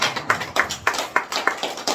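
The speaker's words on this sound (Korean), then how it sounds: "요거 박수 한번 쳐야 되겠지." Several hand claps ring out in a steady, evenly spaced rhythm, fairly close and crisp, with no talking over them.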